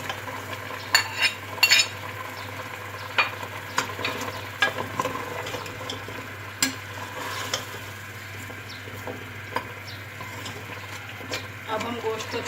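Mutton frying in a pan with tomato and ginger, stirred now and then, gives a steady low sizzle under scattered clinks and scrapes of a spoon. A voice is heard over it at times.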